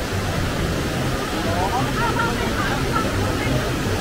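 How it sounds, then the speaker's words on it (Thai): A large waterfall on a trip in northern Thailand roars as a steady, loud broadband rush of falling water, continuous from start to finish, with faint voices mixed into the background. "มาถึงน้ำตกแล้วนะครับดูครับโอ้โหใหญ่โตมโหฬารมากดูน้ำไหลจากทางนี้ไป"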